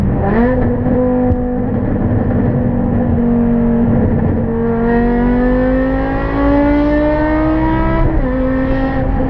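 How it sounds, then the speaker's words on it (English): A BMW E60 M5 exhaust burbles and revs loudly and close up, with steady harmonic engine tones rising and falling through several rev sweeps, and no talking over it. "This car hasn't been tuned, and how it burbles like a hurricane is beyond me."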